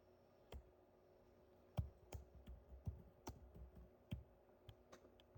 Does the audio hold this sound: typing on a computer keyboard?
yes